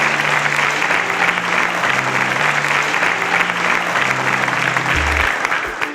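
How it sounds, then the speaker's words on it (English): Steady applause from a studio audience as contestants exit the stage, loud and continuous throughout with crowd noise and no talking. "A round of applause for them as they exit the stage."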